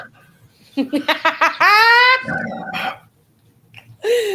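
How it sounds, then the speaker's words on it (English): A noisy, grumbly dog lets out a run of short close barks that stretch into a drawn-out howling grumble, with a pause before it starts up again at the end. "I just have a noisy, grumbly dog over here"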